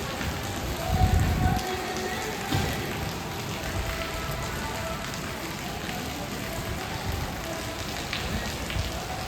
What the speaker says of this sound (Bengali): এই আওয়াজটা শোনো, তাহলেই বুঝতে পারবে কীরকম বৃষ্টি পড়ছে